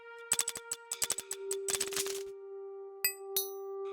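Ringtones from a sound puzzle in the video game Creepy Tale 2: a quick run of bright metallic dings over a sustained tone, then two isolated chimes near the end.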